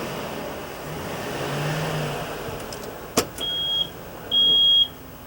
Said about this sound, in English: You've got your backup beeper.